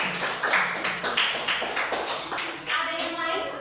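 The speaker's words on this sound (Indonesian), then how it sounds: "Tepuk tangan untuk kalian." Children in a classroom clap together in a quick, uneven burst that swells and fades in repeated waves, close by and fairly loud.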